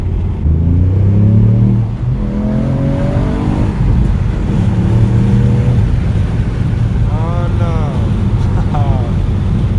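Ford Puma ST 200hp engine revving hard and accelerating through gears, loud rising and falling engine tones with shift breaks, heard from inside the car with people talking over it.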